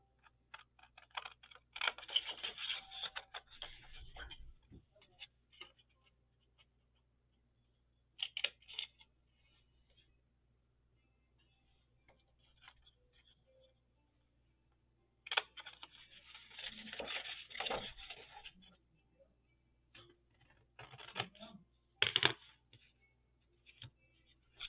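Scissors cutting out a paper picture for a zine, heard as close bursts of snipping and crinkling paper separated by quiet pauses, with sharper clipped cuts near the end.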